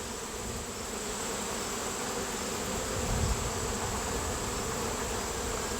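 Honeybees buzz densely and continuously around a foundationless Layens hive comb frame, a close, steady hum that fills the whole stretch without talk.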